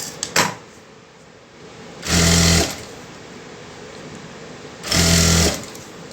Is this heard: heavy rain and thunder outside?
no